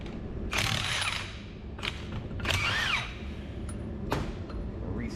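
A grease gun is pumped in a farm workshop, giving several short, close mechanical clicking and ratcheting bursts spaced irregularly over a low steady background hum.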